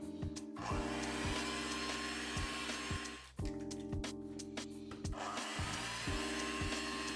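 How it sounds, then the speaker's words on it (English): An electric hand or stand mixer on medium speed creams cake batter for a Smith Island cake, a steady whirring drone broken by brief pauses and speed changes, close and alone. "using a hand or stand mixer on medium speed, cream everything together for about 2 minutes until it's light and creamy"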